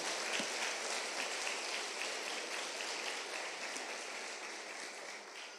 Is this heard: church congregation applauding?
yes